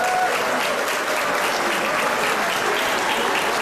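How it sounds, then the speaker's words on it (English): Dense, loud audience applause at Palau Pacific Resort's 30th anniversary celebration rolls on steadily for several seconds, an even wall of many hands clapping together. "Let's give another big round of applause to Palau Pacific Resort"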